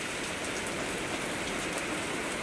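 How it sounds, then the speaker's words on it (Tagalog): Heavy rain pours down beside a fish pond, a dense, unbroken hiss of drops hitting water and surfaces that stays loud and even throughout. "napakalakas ng ulan"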